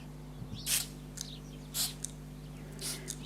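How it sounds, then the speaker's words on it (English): Three short, soft hissing spritzes of water from an atomizer, evenly spaced over a steady low electrical hum. "So we pick up the atomizer and give it a light spray."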